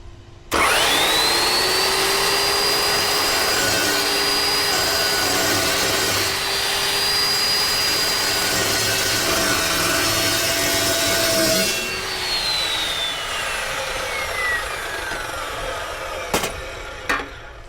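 Cold cut saw slicing through metal stock on a hot rod build: a loud, steady whining cut that holds for about eleven seconds, then spins down as the blade runs free, with a couple of sharp knocks near the end.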